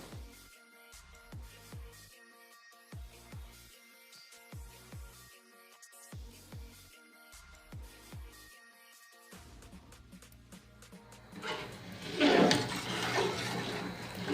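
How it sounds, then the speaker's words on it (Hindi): Water poured into a pot of rice for kheer, a steady splashing pour that grows louder toward the end, following a stretch of faint clinking. "अब हम इसमें 3 लीटर पानी शामिल करेंगे।"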